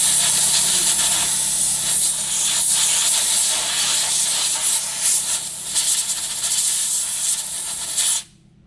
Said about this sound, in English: Use the air nozzle to clean dust around the bleeder screw.